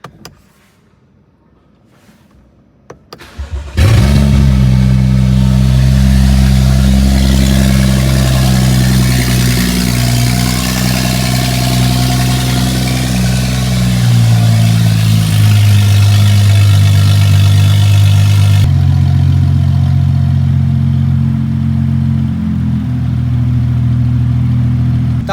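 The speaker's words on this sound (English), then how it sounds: "Let's get the one of many cold starts again." A BMW M135i with a 3-liter six-cylinder engine fires up from cold after a quiet moment, catching with a loud burst and then settling into a steady, close, high idle that drops slightly later on, with no talking.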